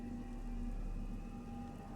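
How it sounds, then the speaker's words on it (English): Steady rain falls in the video game Hellgate: London, a continuous soft hiss of drops on surfaces over a low hum, even and faint throughout with no talking. "Also, how is it raining in hell?"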